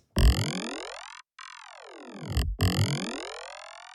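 A glassy synth tone from an Arturo MiniFreak vocoder with OTT multiband compression at full amount sweeps down and back up in smooth glides, bright and buzzy with rich harmonics, briefly cutting out twice.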